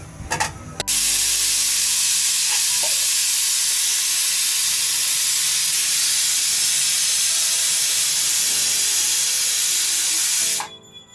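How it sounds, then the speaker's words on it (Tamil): Water at a full boil in a pot for vegetable sambar gives off a loud, steady hissing rush that cuts in abruptly after a brief clatter and holds constant until it drops away at the end. "இது தண்ணி நல்லா கொதிச்சிடுச்சு"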